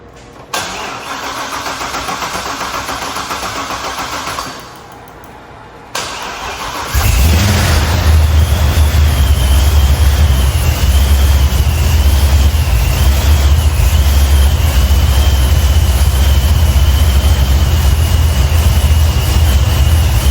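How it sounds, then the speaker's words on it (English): A Ford F100 pickup cranks through a hard, untuned start around seven seconds in, then settles into a loud, steady, rumbling run close by. "All right, we're gonna start this up, try to get that through into the radiator, and then dump in the rest."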